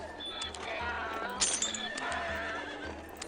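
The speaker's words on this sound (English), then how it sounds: "Horses all around." Horses whinny and neigh in the strategy game Trade Empires, with hoof clip-clops mixed in. A few distinct neighs sound over a steady in-game background.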